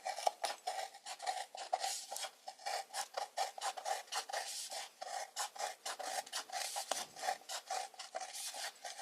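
Scissors cut repeatedly through the stiff rolled rim of a paper cup, a rapid string of dry rasping snips and crunches, close and fairly quiet, with no talking.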